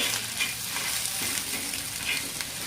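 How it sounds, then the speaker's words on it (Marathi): Onion frying in hot oil in a pan for egg bhurji, a dense steady sizzle with faint stirring scrapes, close and continuous, no speech. "हे बघा असं मस्त फ्राय करून घ्यायचं याला"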